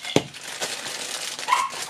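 Several dogs bark and yip in short bursts at close range, a sharp loud bark near the start followed by scattered yelps and whimpers, with some crinkling handling noise in the room.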